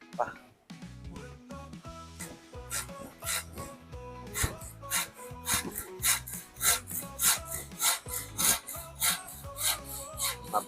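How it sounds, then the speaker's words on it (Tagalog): Rhythmic back-and-forth strokes of a handsaw cutting through hard bamboo for a nipa hut build, rasping steadily and growing louder, with music playing underneath. "kapag kang nilalagari mo kawayan"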